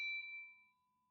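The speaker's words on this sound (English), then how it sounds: "hit the bell icon" A single bright notification ding rings out clearly and fades away over about a second, leaving silence.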